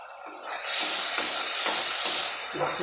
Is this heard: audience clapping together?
no